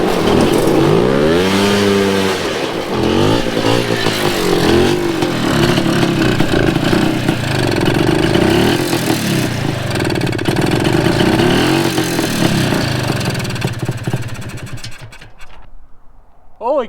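A 2-stroke racing lawn mower engine roars close by, revving up and down repeatedly as it drives around, loud and buzzy, then trails off near the end.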